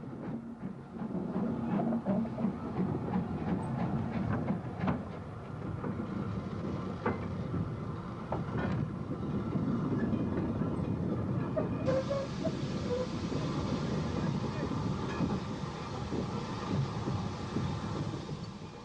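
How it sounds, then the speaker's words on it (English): LMS Stanier Class 8F heavy freight steam locomotive running, with a steady, continuous rumble and rail clatter that carries evenly throughout, fairly close and with no voices. "The principal LMS design of heavy freight engine was Sir William Stanya's Class 8F"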